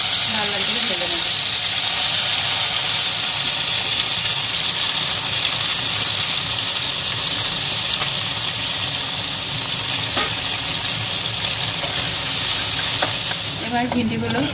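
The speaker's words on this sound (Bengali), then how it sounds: "তেল গরম হলে আমি ভিন্ডিগুলোকে লাল লাল করে ভেজে নেব" Spice-coated okra (bhindi) frying in hot oil, a loud, steady sizzle that holds for the whole stretch with occasional stirring and a brief clatter near the end.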